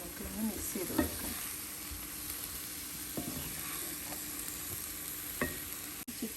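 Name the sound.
stirring chicken with masala in a frying pan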